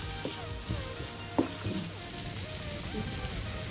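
Sausage, capsicum and onion fry in a pan, giving a soft continuous sizzle broken by a few light clinks and scrapes of stirring, with no talk.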